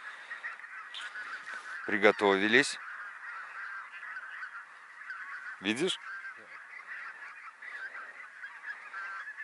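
White-fronted geese honk in two loud, close bursts of repeated calls during a spring goose hunt, set against steady background noise, with a brief quiet word spoken nearby.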